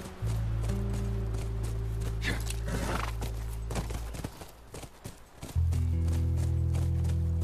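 Horse hooves clip-clop near a ranch house in the PS4 game The Last of Us Remastered, a few soft hoof knocks set beneath steady ambient music and background drones.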